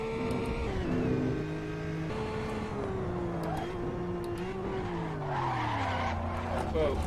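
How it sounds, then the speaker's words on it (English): A Honda Acty kei truck in the Assetto Corsa racing game locks its brakes: a long, loud tire squeal and skid with the engine note falling underneath. "And the brakes lock up at a moment's notice."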